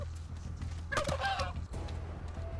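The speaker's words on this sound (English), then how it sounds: "And these zombies, the turkeys, they spawn infinitely." Gobbling, clucking turkey zombies in the video game How To Survive 2, a burst of fowl calls over a steady low game-engine hum, fairly close and without speech.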